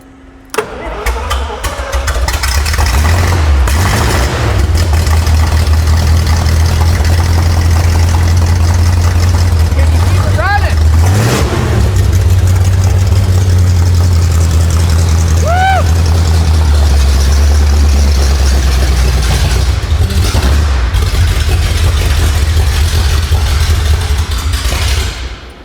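A 1963 Studebaker Avanti engine cranks and fires, then settles into a loud, steady idle that runs close by for the rest of the stretch, with brief voices in the background.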